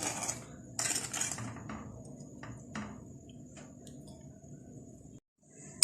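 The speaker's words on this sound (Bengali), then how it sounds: "বলক আসা পর্যন্ত আমি কিছুটা নেড়ে চেড়ে নিব।" A spoon stirs thin sugar syrup for jalebi in a pot, giving intermittent metallic clinks and scrapes against the pot over a low steady background, with no talking.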